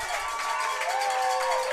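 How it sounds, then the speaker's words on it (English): A Christopher Newport (CNU) crowd roars steadily through a men's lacrosse game, a dense, even wash of cheering voices with no break across the short stretch. "And you can hear this CNU crowd."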